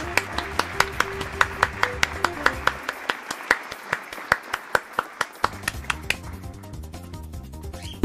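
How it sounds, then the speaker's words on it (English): Evenly spaced hand claps ring out in a steady rhythm, about twenty sharp beats over a sustained tonal background, with no words spoken. "Yeah, clap that up."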